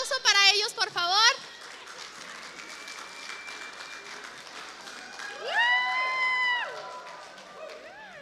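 A church congregation applauding during a service: steady clapping with a few cheers and whoops, following a brief burst of voices at the start.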